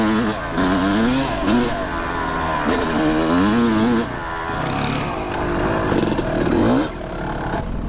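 Kawasaki KX250 dirt bike engine revving hard and accelerating in repeated rising bursts, close and loud, with dirt being thrown up behind it.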